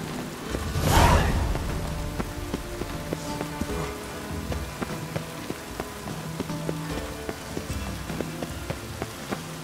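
Rain falls steadily in The Witcher 3, a soft constant patter with a whooshing gust early on and faint rhythmic ambient music underneath, no talk.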